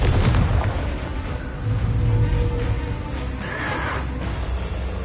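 Confringo blasting spell explosions in a Harry Potter video game, a dense run of booming blasts and low rumbles that stay loud throughout, with a sharp burst near the start.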